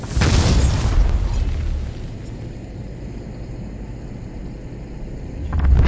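A heavy explosion blast booms in Cyberpunk 2077, loud and close, its roar rolling on for about two seconds before settling into a lower rumble that swells again near the end.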